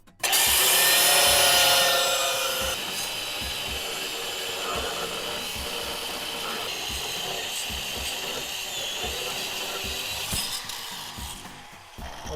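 Power tool, a sawzall or grinder, cutting through a rusty sway bar link on a car's suspension, a loud sustained buzzing grind up close that eases into a steadier cut before tapering off near the end.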